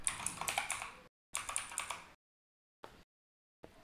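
Typing on a computer keyboard in bursts of quick, crisp clicks, with short pauses between groups of keystrokes, close and clear with no talking.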